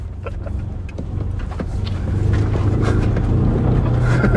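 A Ford Ranger Raptor diesel accelerates in Baja mode over rough, bumpy off-road terrain, its engine rumble rising and growing louder inside the cabin amid rattles and wind.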